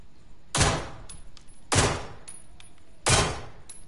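Gunfire in the video game Generation Zero fires as three separate sharp, loud bursts about a second or more apart, each trailing off quickly into quiet game ambience, with no talking over them.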